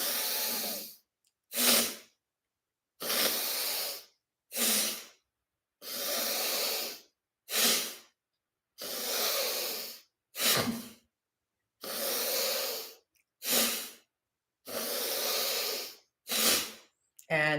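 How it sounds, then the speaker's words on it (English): Paired, forceful breaths repeat on a steady rhythm during a spine routine: a long hissing inhale followed by a short, sharp exhale, close and loud, cycling about a dozen times. "inhale, out, pull it in, inhale, out, inhale, out."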